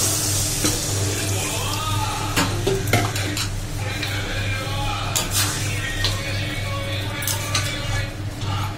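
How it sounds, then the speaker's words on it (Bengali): Water goes into a hot cooking pan of vegetable curry, bringing a loud continuous sizzle with repeated metal spoon scrapes and clinks against the pan under a steady background hum. "এবার আমি জল দিয়ে দিচ্ছি।"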